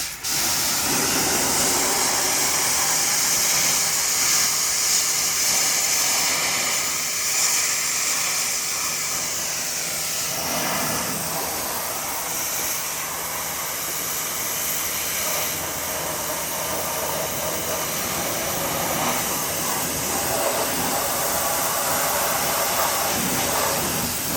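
A pressure washer with a 25-degree nozzle blasts a car's wheel well and carpeted fender liner in a loud, steady, close hiss that runs unbroken for about twenty seconds with slight shifts in tone as the spray moves.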